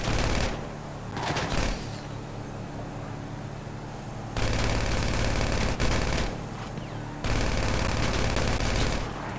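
Heavy gunfire in GTA V, with loud sustained bursts of automatic fire separated by quieter stretches and then returning in long volleys.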